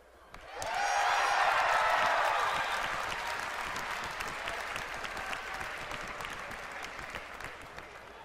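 An audience at a live World of Warcraft presentation bursts into loud cheering and applause, swelling quickly to a peak and then slowly tapering off while still clapping.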